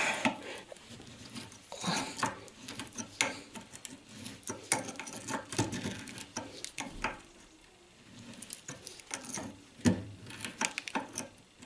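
Old Citroën Traction 11 or 15 steering parts, rods and ball joints soaked in oil and grease, being unscrewed with a steady stream of close metallic scraping, ticking and rasping clicks, fairly quiet and continuous with short pauses.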